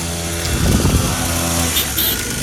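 A dirt bike engine runs close by with a loud, buzzing drone that swells briefly and then settles, heard alone without talk.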